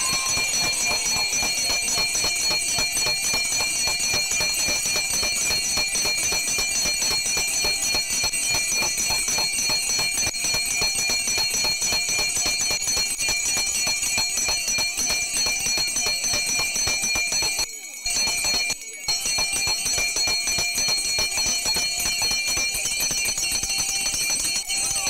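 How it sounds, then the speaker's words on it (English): Hand bells rung loudly all at once by a crowd at a Philadelphia school on the first day make a dense, continuous metallic jangle with bright ringing tones, sustained for a long stretch with two brief pauses. "we're going to ring these bells as loud as we can"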